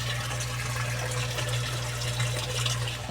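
An aquarium pump circulates water through a plastic-bottle filter system for raising crayfish, giving a steady, close gushing flow over a constant low hum, with no talking.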